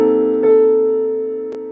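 A minor seventh chord with an added 13th, played once and left to ring, sustained and gradually fading, with a couple of faint clicks along the way.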